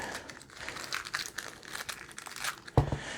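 Small plastic bags holding Allen keys, set screws and a battery crinkle and rustle close up as they are handled for a Primary Arms scope, ending in a soft thump as they are set down.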